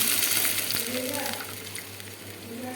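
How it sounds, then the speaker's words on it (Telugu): Mustard seeds and spices crackle and sizzle in hot oil as a tempering for Andhra-style buttermilk curry (majjiga charu), a steady close frying hiss with a low hum beneath and a few sharp pops. "ఇప్పుడు తాలింపు వేసిన కానీ ఇందులో మనం సింపుల్గా తాలింపు వేసేసుకోవాలి"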